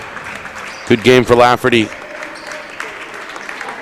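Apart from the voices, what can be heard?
crowd applause at a high school basketball game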